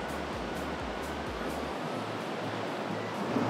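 Steady river water rushes beside an outdoor bar called Mystic Falls near El Bolsón, a constant broadband wash at moderate level with no talk.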